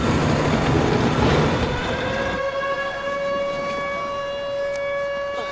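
A prison alarm horn blares in a loud, steady wail with sustained tonal pitches over a rumbling background. It then thins to clear held tones.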